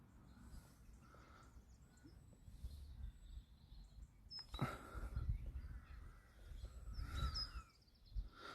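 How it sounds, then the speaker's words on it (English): A bird gives harsh, crow-like caws, a few separate calls spaced apart, faint against quiet outdoor background. "I don't know what type of bird that is."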